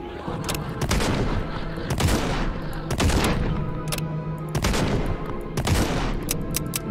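Grenade launcher in the shooter Project Warlock 2 firing repeatedly, heavy booming blasts about once a second with loud explosive bursts and dense in-game noise between them.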